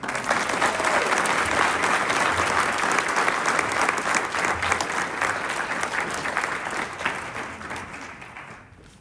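Sustained, loud applause from a large audience at a county teacher of the year awards ceremony, honoring a lifetime achievement award recipient; dense steady clapping that holds for several seconds before tapering off.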